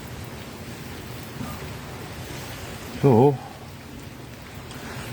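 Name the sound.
rain falling outdoors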